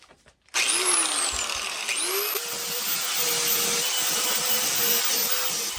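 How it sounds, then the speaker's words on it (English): A power finger sander starts up abruptly and runs with a steady high whine, sanding a wooden Nordic axe walking stick at close range, the pitch dipping slightly under load. "I'll put the hood on and get the finger sanders"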